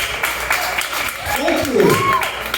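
Audience applause at a comedy show, a steady wash of clapping from the crowd with a few whoops and cheers rising near the end.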